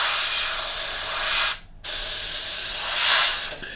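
Bursts of aerosol spray paint hiss steadily onto small metal-plate parts of a Revell 1/32 He111 model kit, two long sprays split by a brief pause, close and fairly loud.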